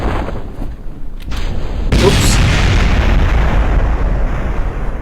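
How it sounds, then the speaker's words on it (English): Rocket engines explode in the video game Kerbal Space Program. A sharp bang gives way to a heavy, rumbling roar that keeps going loudly to the end. A voice exclaims once. "There's all their engines going bang."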